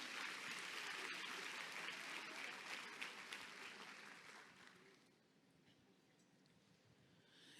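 A congregation at a women's ministry church conference breaks into dense, sustained applause that swells for several seconds, then fades out to a quiet room.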